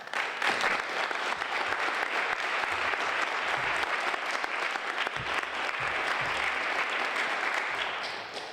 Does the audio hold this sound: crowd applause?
yes